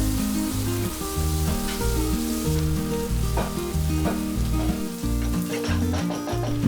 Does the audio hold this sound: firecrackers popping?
no